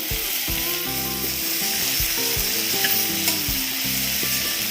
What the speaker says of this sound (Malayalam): മെൽറ്റായ ബട്ടറിലേക്ക് പട്ട ഗ്രാമ്പു ഏലക്ക ചേർത്ത് കൊടുക്കാം ഇതൊന്ന് മൂത്ത് വരുമ്പോഴത്തേക്ക് ഇതിലേക്ക് നമുക്ക് സവാള ചേർത്ത് കൊടുക്കാം